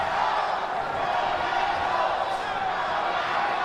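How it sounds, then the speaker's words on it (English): Crowd at a Golden Boy boxing fight night, Oscar Collazo versus Gerardo Zapata, roaring and cheering steadily as a dense wash of arena noise, with a commentator talking over it. "And here comes the Collazo crowd making noise"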